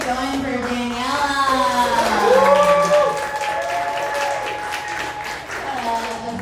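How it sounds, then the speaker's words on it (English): A comedy club audience in Boca applauds and cheers between stand-up acts, with steady clapping and whooping voices rising and falling loudly across the whole stretch. "Keep it going for Daniela."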